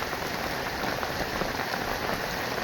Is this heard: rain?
yes